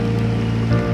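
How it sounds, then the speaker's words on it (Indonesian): Rain falls steadily on a river mouth during a fishing trip, a dense, continuous patter with a low, constant hum beneath it and no voices. "Pemancing kehujanan guys."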